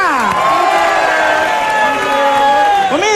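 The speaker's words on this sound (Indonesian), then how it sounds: "Tepuk tangan untuk semuanya." A loud television studio audience cheers and whoops throughout, with shouting voices rising and falling; little distinct clapping stands out.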